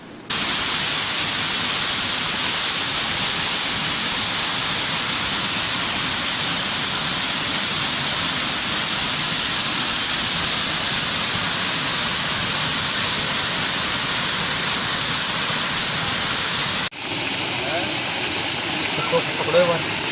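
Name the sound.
flowing river water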